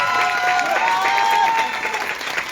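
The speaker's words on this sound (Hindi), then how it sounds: "एक बार छोटा ताली बजा।" Applause from a crowd, steady and moderately loud throughout, with a sustained tonal whistle or feedback line running through the middle.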